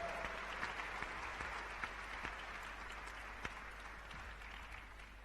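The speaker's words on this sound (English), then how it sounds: "Ladies and gentlemen, please welcome her with a warm round of applause." Sustained applause from a large summit audience welcoming Cherie Blair, a steady, dense wash of clapping throughout with no voices standing out.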